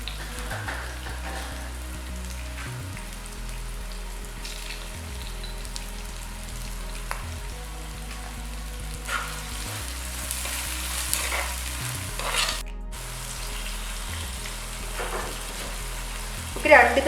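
Chopped onions with salt sautéing in a pan for a tuna fish head curry, a steady soft sizzle and crackle running throughout with a few faint stirring clinks, no talking.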